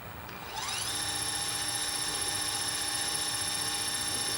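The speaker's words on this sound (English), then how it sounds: "Sounds like a normal Astro-Physics mount." Astro-Physics AP1200GTO telescope mount motors slewing after a regrease, a steady high-pitched electric whine that ramps up quickly after a brief quieter start and then holds constant, close and alone with no talk.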